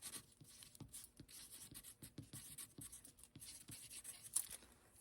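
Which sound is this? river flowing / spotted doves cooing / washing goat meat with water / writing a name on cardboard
writing a name on cardboard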